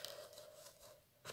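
Scissors snipping through layered fabric, a short run of close, quiet cuts with a slightly louder snip at the end.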